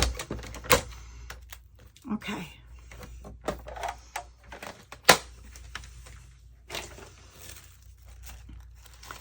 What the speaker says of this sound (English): I'll go out to my printer and print them